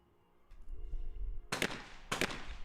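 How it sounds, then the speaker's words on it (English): Two sharp shotgun blasts crack out at a women's team skeet final at a European Championship, a double fired in quick succession and echoing away, after a quieter lead-in of background hum. "Vanessa Hoff perfectly hitting the first double."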